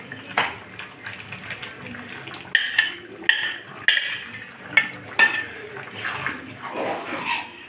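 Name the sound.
fish curry gravy bubbling as fried fish is added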